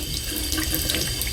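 A tap runs steadily at full flow, waiting for the water to heat up before filling a spray bottle, a close, constant hiss and splash into the sink with no pauses.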